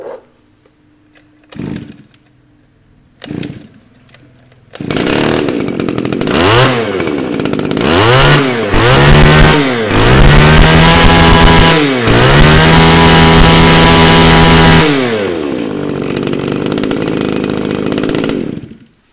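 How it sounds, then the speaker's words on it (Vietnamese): A Japanese two-stroke grass trimmer engine with a 32 mm cylinder being pull-started: a few short sputters, then it catches and revs loudly in repeated rising and falling bursts before settling to a fast idle, close up. "em sẽ giật nổ các bác nghe thử con mã số H6 này."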